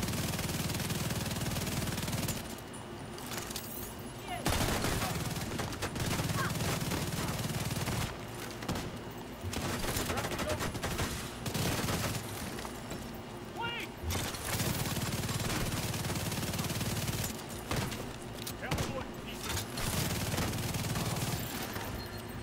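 An assault rifle fires in The Division 2 video game in long, dense automatic bursts separated by brief pauses, loud and close, with game effects mixed in and a voice talking over parts.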